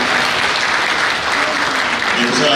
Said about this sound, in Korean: 여러분 뜨거운 박수를 부탁드리겠습니다